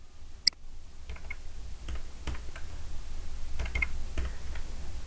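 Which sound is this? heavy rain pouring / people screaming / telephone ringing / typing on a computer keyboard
typing on a computer keyboard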